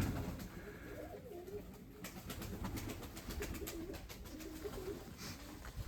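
Pigeons coo softly in their loft, low throaty calls repeating over a faint background with occasional light rustles, fairly close.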